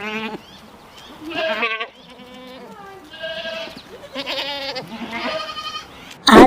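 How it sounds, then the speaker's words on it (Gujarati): A goat bleats several times in close, loud, wavering cries separated by short pauses, with a sharp knock right at the end and no talking. "આ છે બકરી."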